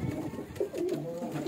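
Teddy pigeons coo from a rooftop in Mirpur, a few soft, low throaty calls rising and falling over steady background noise, fairly close.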